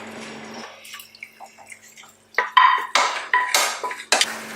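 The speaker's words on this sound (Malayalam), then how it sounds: "പിന്നെ നമ്മളുടെ ചിക്കൻ സ്റ്റോക്ക് ഇതിലേക്ക് ആഡ് ചെയ്യാം" Chicken stock goes into a pot of Kerala varutharacha chicken curry: soft drips and a metal clink at first, then louder splashing pours and utensil clatter near the end, close by, with no voices.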